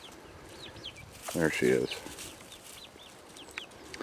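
Olive egger hens in a backyard flock give a brief burst of clucking, close and moderately loud, while a person speaks quietly nearby over faint outdoor background noise.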